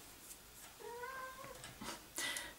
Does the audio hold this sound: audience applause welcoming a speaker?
no